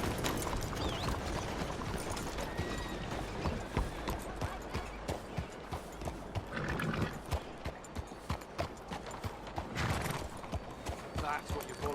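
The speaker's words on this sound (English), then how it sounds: "That's what you call a prize-winning horse," A horse walks with rhythmic clip-clop hoofbeats and gives a neigh in Red Dead Redemption 2, with in-game ambience underneath.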